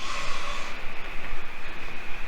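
Train passing on tracks beside an abandoned bread factory in Buffalo, NY: a steady, fairly loud rumbling roar with a high metallic tone, continuous throughout, no talk.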